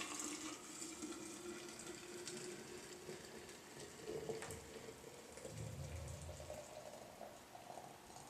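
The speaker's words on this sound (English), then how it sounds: "just going to pour our hot water in." Nearly boiling water pours steadily into a Mason jar, a continuous splashing, gurgling flow with no talking.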